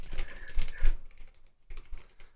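Code being typed on a computer keyboard in quick, close bursts of key clacks, a dense cluster first, then a pause and a shorter flurry of taps.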